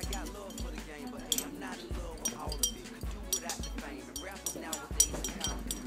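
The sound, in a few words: stirring a solution to dissolve sodium hydroxide pellets in glassware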